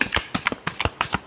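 Tarot cards are shuffled by hand at close range, making a quick burst of five or six sharp papery slaps in just over a second, with no voice.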